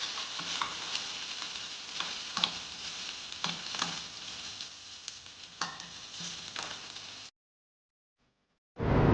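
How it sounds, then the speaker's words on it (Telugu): Cumin seeds and garlic sizzle in hot oil for tempering, a soft steady frying hiss punctuated by sharp stirring clicks, then a brief silence before the sizzle returns loudly. "నేను ఈ జీలకర్ర ఇంకా ఇది కూడా గార్లిక్ కూడా కొంచెం పోపులో వేసుకుంటున్నా"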